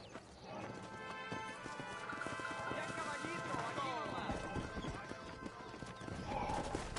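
Rhythmic clip-clop of horse hooves trotting, with a whinny and voices over the top, in a busy Red Dead Redemption game soundscape on PS5.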